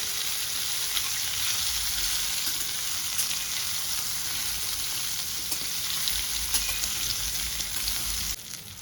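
Stuffed gunda being fried in a pan with a steady, close hiss of sizzling oil throughout, with faint occasional stirring scrapes, continuing unbroken until it drops slightly near the end.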